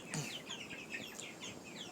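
Chickens clucking in a farmyard, a string of short, overlapping clucks and chirps at moderate distance, fairly faint against a steady outdoor background.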